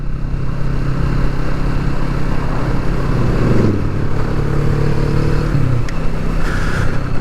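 A 2020 Kawasaki Vulcan S Performance motorcycle rumbles steadily and loudly from its exhaust while being ridden on the road, with a brief change in engine tone partway through and no talking.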